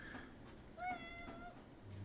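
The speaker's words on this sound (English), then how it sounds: "Can you guys hear my cat here?" A pet cat named Jack gives a single short meow, faint and somewhat distant, against a low background hum in a quiet room.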